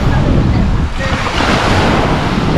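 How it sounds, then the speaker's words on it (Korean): Atlantic surf breaking on a seaweed-strewn Canadian beach, a loud, continuous roar of waves close by with wind buffeting the microphone throughout. "우리 딸이 저 파도 치는 거 진짜 좋아하거든요"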